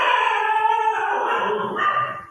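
The dog Bhairavan howls in a long, wavering, fairly close cry that shifts pitch midway and swells again near the end, with no talking over it.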